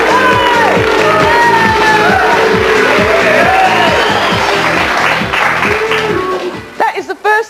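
A talk show studio audience roars with loud sustained crowd noise, mixing applause, shouting and booing, with the guest's partner joining in; the din fades toward the end as a voice cuts through.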